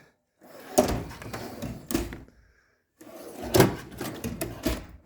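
Foam-lined drawers of a metal tool box slide open and shut twice, each a rolling rumble that ends in a clunk, heard close and clear with a short quiet gap between them.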